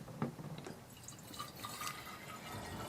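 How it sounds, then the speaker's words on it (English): Distilled water poured into a container, a faint, close trickle and dribble of liquid with a few small drips over a quiet room background. "we're going to pour that in there."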